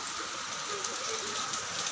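A steady, close hiss of rain falling continuously, even and unbroken for the whole moment.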